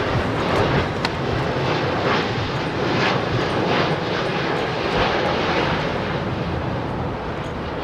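An airplane comes in to land at Heathrow Airport in strong wind, its loud engine roar close and continuous, with gusty rushing noise throughout and no speech.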